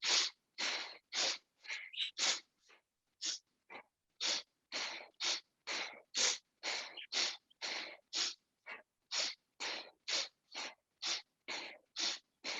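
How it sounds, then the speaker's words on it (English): Sharp, forceful breaths through the nose repeat in a fast, steady rhythm during a yoga breathing exercise, close and alone, each sniff a short noisy burst with brief gaps between. "Let that belly move with the sniff in and sniff out through the nose."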